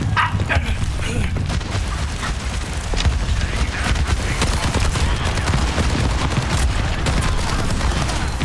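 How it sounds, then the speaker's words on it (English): Overwatch 2 match full of rapid gunfire and combat blasts, dense and continuous, with a grenade among the effects and a player talking over the action. "Ooh, that's a grenade"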